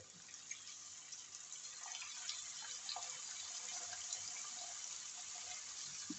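Water added a little at a time to risotto rice toasting over high heat gives a faint, continuous bubbling sizzle with small clicks and stirring sounds, all at low volume.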